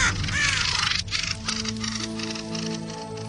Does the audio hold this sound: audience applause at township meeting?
no